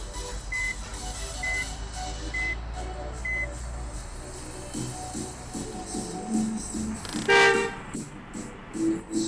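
A bus reverse-parks on a picnic outing to Sitinjau Lauik, and its repeated evenly spaced electronic reversing beeps sound fairly faint over engine rumble and background noise, with a louder horn-like burst near the end.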